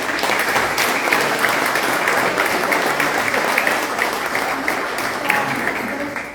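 Dense, continuous clapping fills a room as an audience applauds the speakers at the close of a talk on accessibility in condominiums, staying loud and steady throughout.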